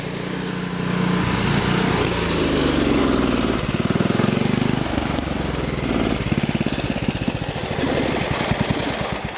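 A 1971 Toro 7/26 snowblower engine runs choked to burn the last fuel from the bowl, a loud, close, steady mechanical drone that turns rough and knocking, sputtering irregularly toward the end.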